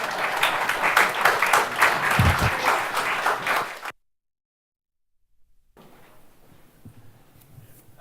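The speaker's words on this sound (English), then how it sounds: "applause." Applause from a conference audience after a talk on FHIR health-data projects, a dense wash of clapping for about four seconds that cuts off, followed by faint room noise and shuffling.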